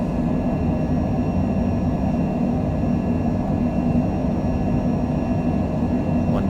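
A Cessna Citation Longitude business jet accelerates down the runway on its takeoff roll at Providence, Rhode Island, its engines producing a steady, loud, continuous roar with a low rumble and faint high whine throughout.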